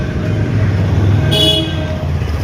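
Vehicle horns honk amid a traffic jam on a busy street where a golgappa vendor stands, one loud toot rising over a steady roar of idling engines and road noise.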